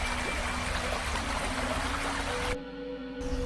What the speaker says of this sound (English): The river is in flood after all the snow we've had.